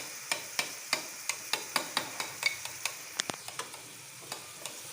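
A spoon stirs radish masala with pickle spices frying in a pan, giving a steady rhythm of sharp taps and scrapes, about three per second, over a soft sizzle. The taps grow quicker and lighter toward the end.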